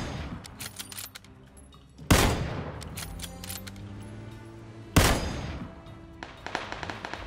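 Gunfire in the video game PUBG: scattered rapid shots, then two loud sharp bangs about three seconds apart, each trailing off into ringing echoes, with more quick shots near the end.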